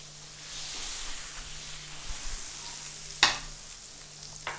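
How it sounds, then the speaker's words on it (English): Butter sizzles faintly on a hot grill as burger patties are prepared, a soft steady hiss with a brief sharp crackle near the middle. "We are going to butter this grill up."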